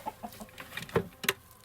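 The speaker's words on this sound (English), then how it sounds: "These are some of the roosters." Roosters in an outdoor farm yard give a run of short, uneven clucks and squawks up close, with two louder calls near the end.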